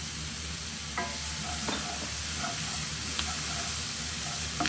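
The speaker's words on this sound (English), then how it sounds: "At this point now, I'm also going to add my garlic." Garlic frying in a pan with vegetables, a constant loud sizzle and hiss broken by a few light scrapes and taps from stirring, close up and without talk.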